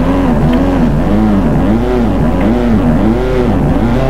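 Kia Cerato engine in the Assetto Corsa racing game, loud continuous drone as the car accelerates in sixth gear, pitch rising and dipping in repeated sweeps with no pauses.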